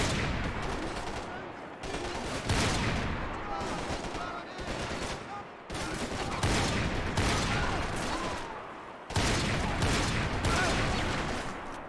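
Dense gunfire in Max Payne 3 comes as sustained loud volleys of shots in several long bursts separated by brief gaps, with a voice occasionally audible over the shooting.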